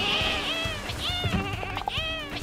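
Sheep in the video game Lumberhill bleat several times in quick succession, with wavering, nasal cries that overlap, close and fairly loud.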